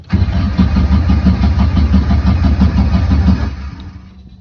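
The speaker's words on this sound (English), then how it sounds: "cold start, hasn't been started in a while" Kit car engine cranking over on a cold start after sitting unused for a while, a loud, close, rhythmic starter churn lasting about three and a half seconds before fading.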